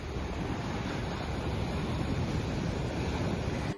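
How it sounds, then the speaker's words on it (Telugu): Steady ocean surf rolls onto Mahabalipuram beach on the Tamil Nadu coast near the Shore Temple, a continuous broadband wash of breaking waves with wind buffeting the microphone and no voices. "ఇక్కడ ఉన్న మహాబలిపురం బీచ్ కేవలం ఒక టూరిస్ట్ స్పాట్ మాత్రమే కాదు"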